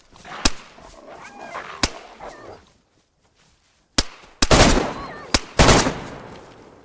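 Gunshots from a player in DayZ on the Livonia map, a few sharp loud cracks spread irregularly between stretches of softer ambient game noise and a brief near-silent gap.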